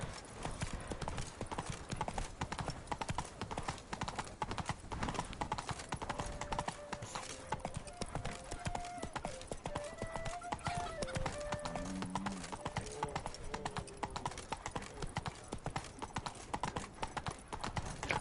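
Horse hooves clip-clop in a fast, even rhythm throughout in the video game Witcher 3, with soft tonal game sounds drifting in the background.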